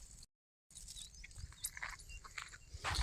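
A dog makes a few short sounds outdoors over steady street noise, after a brief moment of silence.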